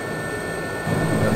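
A steady engine drone from a Yak aircraft passing a Vulcan in the DCS World flight simulator, swelling slightly louder toward the end as it passes close by, with no voices.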